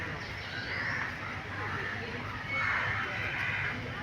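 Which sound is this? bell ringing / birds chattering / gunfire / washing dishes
birds chattering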